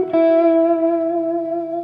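An electric guitar played solo with light distortion and reverb holds one sustained note that rings clearly and steadily, fading only slightly over about two seconds, and no one speaks.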